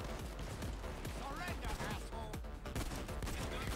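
Gunfire from the Locomotive shotgun in Payday 2 cracks through dense game action. Rapid shots and impacts overlap with other weapons and effects in a busy, continuous barrage.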